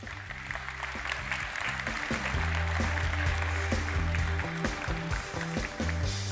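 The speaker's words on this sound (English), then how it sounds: "I'd like to call on stage our panelists under your applause" Audience at a European energy policy conference applauding as panelists walk on stage, a moderate, steady patter of claps blended with low tonal music or hum running underneath.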